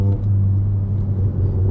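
A stage 2 tuned 2017-era VW Golf MK7.5 GTI exhaust heard at night from inside the car, a deep steady low rumble with faint crackling burble texture, loud and close, no talk.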